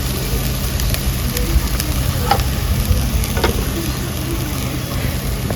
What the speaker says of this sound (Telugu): ఇప్పుడు మనము ఉడికించుకున్న చికెన్ని వేసేసేద్దాం.